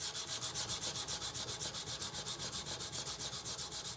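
Steady, rhythmic back-and-forth rasp of 220 grit sandpaper worked over a knife blade lubricated with WD-40, about eight strokes per second with light downward pressure, close and continuous with no talking.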